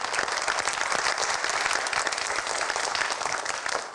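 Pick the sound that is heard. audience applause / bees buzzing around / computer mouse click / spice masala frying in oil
audience applause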